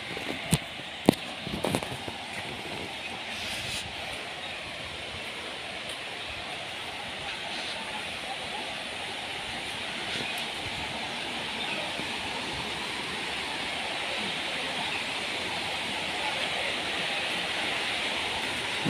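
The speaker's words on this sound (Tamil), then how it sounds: "அங்கே பாரு தண்ணி அப்படி போடுது." Steady broadband rush of falling water at Monkey Falls in Kerala, continuous and fairly close, with a few sharp knocks near the start and no talk over it.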